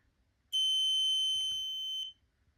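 Electronic buzzer on a brightness-sensing circuit project emits one steady high-pitched tone lasting about a second and a half, clear and alone against near silence.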